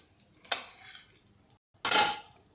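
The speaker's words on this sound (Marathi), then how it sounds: "मी गॅस बंद केला आणि हे थालपीठ मी काढून घेतलं" Metal utensil clinks against a pan while a cucumber thalipeeth is lifted out after cooking, two distinct close scraping clatters separated by a short quiet gap, the second louder and longer.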